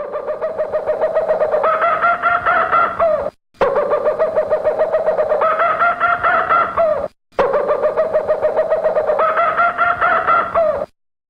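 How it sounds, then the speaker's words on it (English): Small birds call loudly in a jungle setting in three long, repeated bursts of rapid, rhythmic calling. Each burst lasts about three seconds and is separated by a brief silence. "these little birds are adorable, but they get up really fucking early, and that's the sound they make really loudly."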